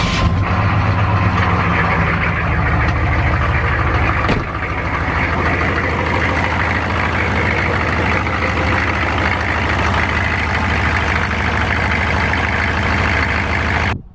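A tow truck's diesel engine with a turbo setup cranks, catches and settles into a loud, steady, close idle that runs on unchanged with no talking.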